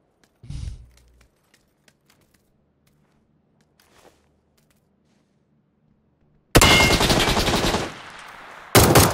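Video game gunfire erupts loudly after a stretch of near silence, a dense sustained burst that pauses briefly and starts again; a single thud comes early on.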